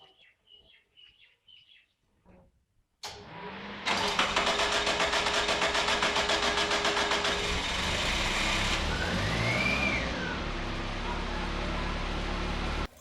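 A car engine idles steadily for about ten seconds after a radiator coolant refill, a constant mechanical hum with a faint rising whine partway through, preceded by quiet background sounds.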